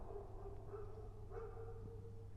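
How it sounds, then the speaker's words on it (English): A dog barks ferociously at a distance, its muffled barks recurring in bursts over a steady low background hum. "You may be able to hear there is a dog ferociously barking right now."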